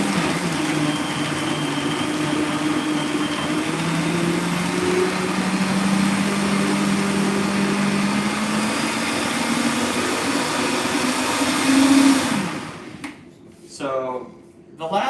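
A blender purees tomato gazpacho at higher speed, a steady motor whine that rises in pitch, then stops with a few short bursts at the end.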